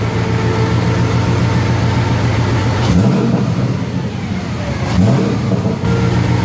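Loud, close exhaust bursts from a 1999 Camaro SS LS1 V8 with an open header cutout, idling roughly before two short, sharp revs that rise and fall back to a throbbing idle.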